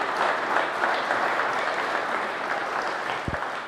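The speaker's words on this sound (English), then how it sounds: "I think they all deserve a massive round of applause" Steady applause from the crowd at an All-Ireland hardball handball championship final, a dense even wash of clapping that holds throughout.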